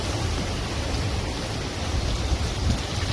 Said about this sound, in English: it's been raining on it and then just blowing the rain sideways